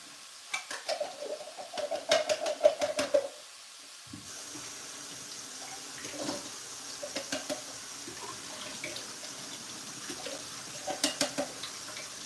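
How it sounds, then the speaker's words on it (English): Chickpeas being drained in a kitchen sink, with running tap water splashing and clattering in bursts, a pause, then softer intermittent rinsing and stirring sounds, fairly close. "So this is how I drain the chickpeas."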